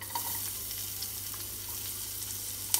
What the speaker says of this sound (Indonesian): Tumis bawang putih, bawang merah.